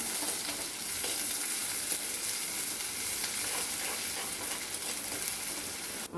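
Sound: curry leaves sizzling and being stirred in frying onions

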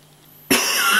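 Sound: cough

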